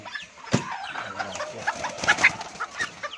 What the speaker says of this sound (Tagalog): ganda ng hen natin